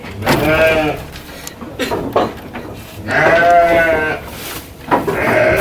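Goats bleat loudly and close by, three long wavering calls with short pauses between them and no talk over them.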